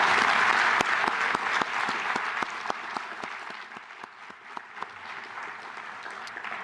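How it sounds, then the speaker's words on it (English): Applause for graduates at a fall pre-commencement reception, a steady crowd clapping with distinct sharp claps standing out, fading slightly toward the end. "if we could have one more round of applause for the graduates"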